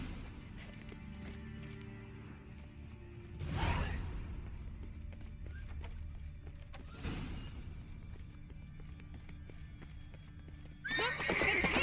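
Horses in the video game Witcher 3, with rhythmic hoofbeats clip-clopping throughout and loud neighs bursting out near the start, midway and at the end.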